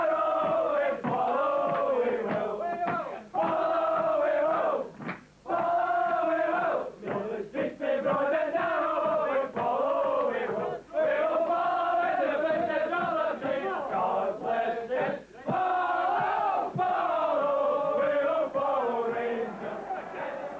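Football crowd at a Rangers match in the 1990/91 season, awaiting the championship-winning team: a loud, continuous roar with rising chants and swells, mixed with a commentator's voice talking over it.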